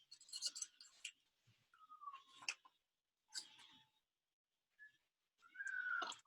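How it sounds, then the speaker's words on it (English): Faint, intermittent cat meows come from a distance in a quiet room, several separate calls spread out with silent gaps, interleaved with soft scratchy handling noises. "Can you hear that cat?"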